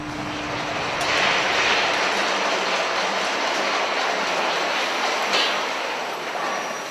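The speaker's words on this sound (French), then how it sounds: "on voit l'aiguillage qui se manœuvre" A cable car track switch shifting position at low speed on a ski-resort lift line: a steady mechanical rumble and hiss with faint clicks and a brief metallic clank, heard alone without voices.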